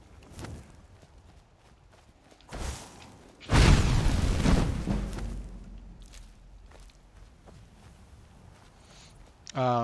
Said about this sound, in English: It's going to be easier if I just probably shoot him with fire